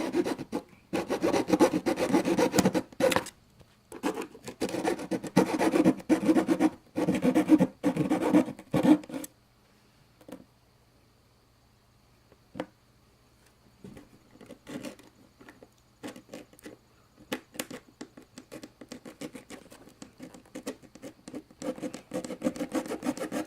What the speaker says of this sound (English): So we're gonna just end up cutting now.